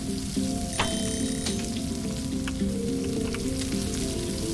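Meat cooking over a fire in the survival video game Stranded Deep, a steady close sizzle and crackle running throughout, with faint tonal game chimes and no talking.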